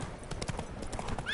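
Horse galloping in The Witcher 3 video game, quick rhythmic hoofbeats at moderate distance over a short run, ending in a brief whinny.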